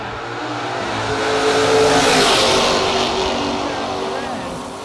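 Drag racing cars accelerating down the strip at a no-box drag event, a loud sustained engine roar swelling to a peak then easing away, with an announcer's voice under the noise.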